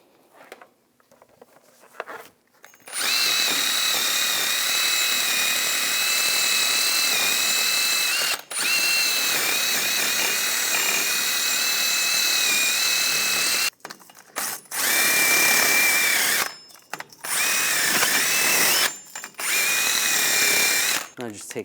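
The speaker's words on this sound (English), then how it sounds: "Now I'm going to use a wire brush and just clean up some of the rust on the hub surface." A power-driven wire brush scrubs rust off the rear hub surface of a 2015-2022 Chevrolet Colorado, a loud high whirring grind in several long runs broken by short pauses.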